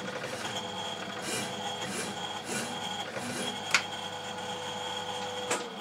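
A lathe turns the tread of a small steam locomotive wheel, giving a steady grinding, whirring cut with a constant tone and two sharp clicks near the end.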